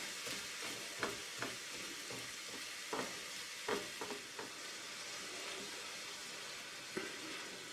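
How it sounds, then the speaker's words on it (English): Ground venison browns in a frying pan while a spatula breaks it up, giving a steady soft sizzle punctuated by scattered scraping taps and stirs against the pan. "Just work that spatula in there and give it a nice little tear. Break it up into smaller burger-like pieces."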